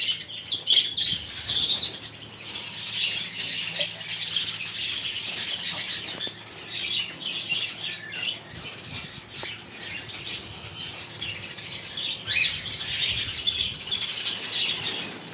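Caged Java sparrows, including white ones, and budgies chirp and tweet in a busy, fairly quiet chorus, with soft wing flutters and rustling throughout.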